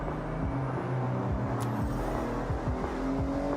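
Video game car engine revving and shifting with repeated rising pitch sweeps, steady and loud with no voices.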